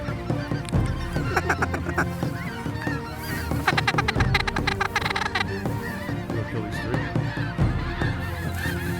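Large flock of geese honking loudly and continuously over a pea field in Alberta, with overlapping calls near and far and bursts of dense honking.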